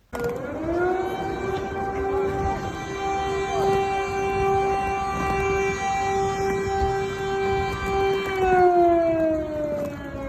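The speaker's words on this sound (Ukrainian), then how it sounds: "Тривожний звук сирен розігнав тисячі українців по всьому світу." A loud air raid siren wails steadily on one sustained rising tone, holding for several seconds before sliding down in pitch at the end, at a Ukrainian demonstration in Bremen, Germany.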